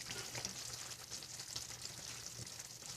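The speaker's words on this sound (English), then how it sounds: "We're getting up very close to a little bit of a boil there." A single pan of spaghetti nearing a boil, giving a steady low bubbling and hissing sizzle with a faint crackle, even and close throughout.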